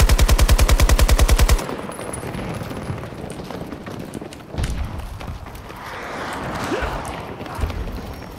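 A rapid burst of automatic gunfire in Battlefield, loud and regularly spaced for about a second and a half, followed by scattered shots, movement and in-game commotion while a voice speaks.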